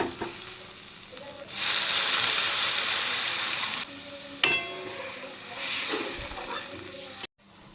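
Water poured into a pan of sizzling spice paste with turmeric and chili powder for a pabda and parshe fish curry. Loud, steady frying hiss surges in bursts, then quiets briefly before sizzling again.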